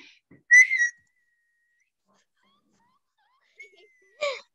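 A person attempts to whistle in short, faint bursts: a brief breathy tone near the start, then a thin falling whistle and a soft airy puff near the end, separated by long silences, close by during a children's English lesson.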